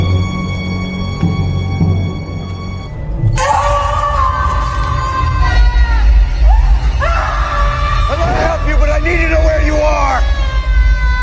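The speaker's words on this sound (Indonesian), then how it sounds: "tiba-tiba terdengar suara seseorang berteriak dengan sangat kencang" A person screaming very loudly inside a haunted building breaks in suddenly after a stretch of quieter sound, then continues as long, wavering cries layered with more shouting over steady background noise.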